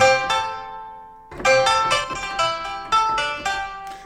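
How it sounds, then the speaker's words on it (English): A plucked Chinese pipa lute plays bright, twangy notes, a short phrase, a brief pause, then a quicker run of repeated plucked notes. "what you're hearing is the sound of a pipa"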